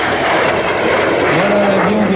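A Lockheed T-33 Shooting Star jet aircraft roars steadily and loudly close by at an air show, a broad continuous engine rush with a faint rising whine toward the end.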